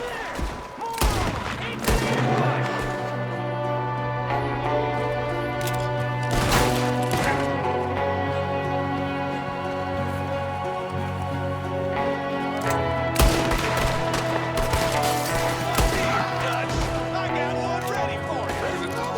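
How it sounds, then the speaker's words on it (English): Gunfire in the video game Red Dead Redemption 2 during a snowy shootout: repeated sharp shots over a sustained musical score, with voices speaking at points. "There's another one shooting from the window."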